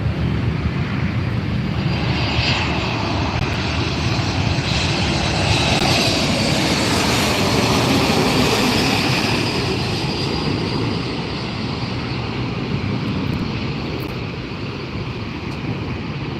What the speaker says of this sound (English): Got another Delta taxiing.